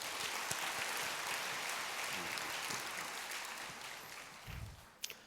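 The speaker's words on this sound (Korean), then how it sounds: "우리 다시 한번 따뜻한 박수로" A church congregation gives warm applause during a Korean sermon service, a soft, continuous patter of many hands that thins toward the end, where a low thump and a brief sharp knock break through.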